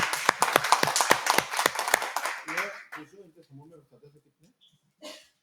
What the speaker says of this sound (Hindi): तब ताली बजाइए सब लोग इनके लिए भाई